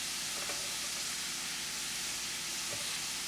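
Celery stalk sautéing in olive oil in a pan: a steady, broad sizzle and hiss that holds evenly throughout, with a few faint clicks and no talking.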